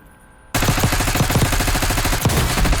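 Rapid automatic gunfire in Call of Duty Warzone Black Ops 6, a loud close burst of repeated shots in a fast steady rhythm that starts abruptly after a quiet moment.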